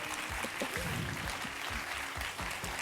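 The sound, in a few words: audience applauding speakers at a conference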